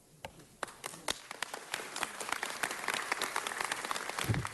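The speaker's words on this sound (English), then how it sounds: "Let's give them a real round of applause." Audience applause at a jazz honors ceremony, starting with a few sharp individual claps and building into dense, sustained clapping from the crowd.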